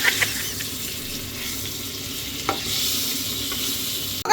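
Hilsa fish frying in hot oil, a continuous moderate sizzle with a few brief clinks and a sharp utensil knock near the end.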